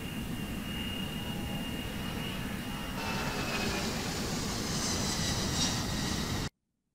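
A FedEx heavy jet takes off from runway 19 right, its engines giving a sustained, distant roar with a faint whine that swells slightly midway, then cuts off abruptly near the end.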